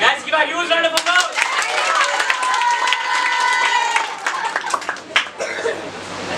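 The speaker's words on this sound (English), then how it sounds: "Guys, give a huge round of applause" Clapping and cheering break out in a birthday celebration gathering, mixed with laughter and lively voices talking over one another, fairly close and loud before trailing off.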